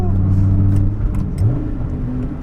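A 2008 Dodge Viper ACR engine revs hard and loud up close, a deep droning growl that rises in pitch through the gears, with the driver briefly heard over it.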